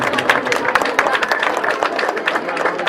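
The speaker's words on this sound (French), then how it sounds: "Je vous demande de l'applaudir." Audience applause breaks out at an excellence awards celebration in Thiakhar, Senegal: dense, steady clapping from many hands sustained for several seconds, with crowd murmur mixed in.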